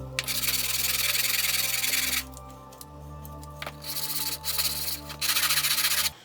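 Sandpaper scrubs the metal sole of a Defiance #3 hand plane in long, steady, hissing strokes, with a few short pauses between passes. A constant low hum runs underneath.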